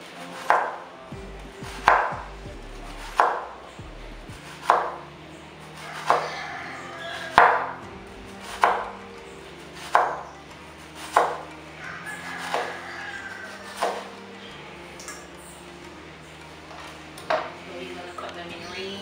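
A knife slices vegetables into thin circles on a board for escovich, giving evenly spaced crisp chopping thuds about once every second or so, with a voice talking quietly underneath.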